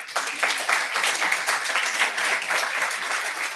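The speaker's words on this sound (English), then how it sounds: "I would like to thank our distinguished speakers with a big round of" Attendees at a plenary session on law and technology give the distinguished speakers a round of applause, with even, moderately loud clapping from a seated hall that holds steady throughout.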